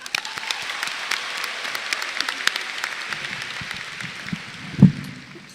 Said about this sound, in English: I think that we should give ourselves a round of applause because we finally made it.